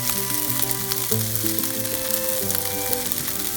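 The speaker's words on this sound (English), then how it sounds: "And here you see me throwing the rice on." Rice with chicken frying on a Blackstone Adventure Ready 22-inch griddle at a campsite, a steady close sizzle under a strong musical tone pattern that nearly buries it, with no talking.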